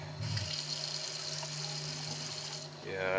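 Steady rush of water runs from a new Lowe's bathroom sink faucet for about two and a half seconds, then cuts off, with a faint hum underneath.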